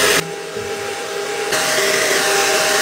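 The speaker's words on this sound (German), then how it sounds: "werde ich jetzt noch mal kurz föhnen." A hair dryer blows steadily at close range while drying hair, its loud, even whoosh shifting in pitch partway through as the airflow or setting changes, with no talking.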